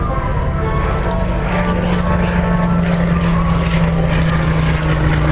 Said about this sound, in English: Very few Hurricanes left flying now.